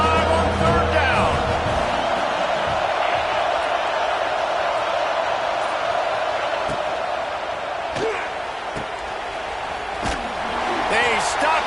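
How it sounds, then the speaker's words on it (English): A large stadium crowd roars continuously for Ohio State on third down during a CFB 26 college football game, with a commentator talking over the loud, sustained noise and occasional sharp impacts. "The Buckeye crowd alive on 3rd down."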